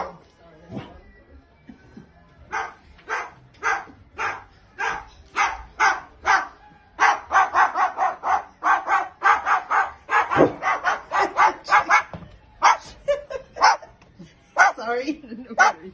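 A pet dog named Chicken barks repeatedly indoors, starting with sparse yips and building into rapid, loud, close volleys of barks with brief pauses.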